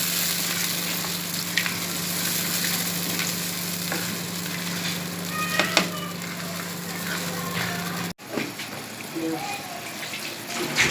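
Jaggery with milk melts and bubbles in a pan over a low flame, a steady soft sizzle with a constant hum and occasional light clinks, cut by an abrupt break near the end before quieter stirring sounds.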